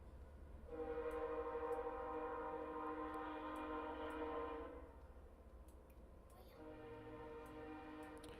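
A train goes by outside. A sustained tonal horn-like drone holds for several seconds, fades to low rumble, then returns more faintly near the end, over a quiet background with faint ticking.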